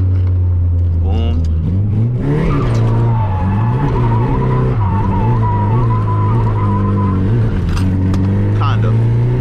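A Nissan S14 drifts with a loud, sustained tire squeal over a droning engine that rises and falls as it slides, continuing throughout with brief sharper bursts near the start and end.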